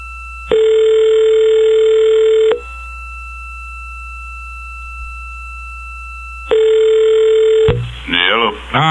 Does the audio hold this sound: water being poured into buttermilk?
no